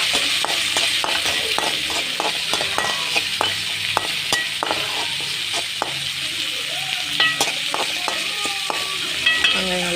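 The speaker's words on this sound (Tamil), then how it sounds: "வெங்காயம் நல்லா வதங்கட்டும்." Onions sauté in a pan for bottle gourd kootu, giving a steady close sizzle with repeated scraping spatula strokes as they are stirred.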